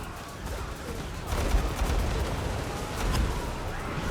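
Grenade launcher fire rains down on a position during a Warhammer battle at Helm's Deep, a dense, continuous barrage of overlapping bursts and booms with louder swells, mixed with distant battle noise.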